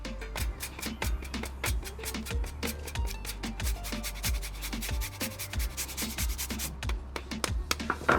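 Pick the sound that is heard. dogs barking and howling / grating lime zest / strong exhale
grating lime zest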